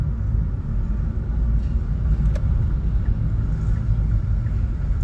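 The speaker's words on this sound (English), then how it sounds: "Bring the car in nice and gentle." Car being eased in to park on a UK test route, a steady low engine and road rumble from inside the cabin with no talking.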